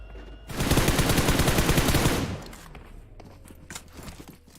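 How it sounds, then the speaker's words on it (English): In PUBG Mobile, a rapid burst of automatic gunfire sprays for about two seconds, loud and dense, then gives way to quieter scuffs and footsteps. "Of course, now we see MG finding a quick few sprays."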